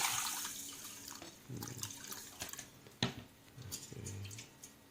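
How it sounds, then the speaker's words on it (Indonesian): Water poured into a cooking pot for making a child's milk porridge, quiet intermittent splashes and drips with short pours and a sharper knock near the middle, heard alone at low level. "Ini saya taruh air."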